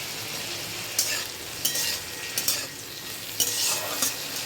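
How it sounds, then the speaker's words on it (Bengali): Potatoes frying in a covered pan give a continuous close sizzle, broken by several sharp scrapes and clinks of stirring at irregular moments, with no talk. "তার উপর দিয়ে আলুটা দিয়ে আবার ঢেকে ঢেকে ভাজবো"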